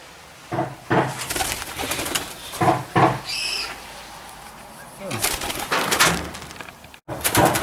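Rose-ringed parakeets coo and call among short fluttering wing flaps, with a few sharp knocks and rustles close by, in an aviary.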